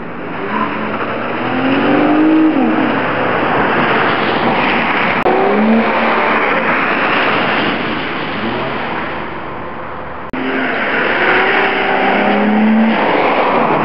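A 2012 Lincoln MKZ drives with steady road and engine noise, rising through several acceleration sweeps as the engine revs climb and gears shift, heard from inside the cabin.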